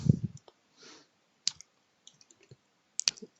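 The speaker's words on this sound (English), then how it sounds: "Let's click OK." Computer mouse clicks, a few scattered sharp taps with a small burst near the end, close and quiet against an otherwise near-silent background.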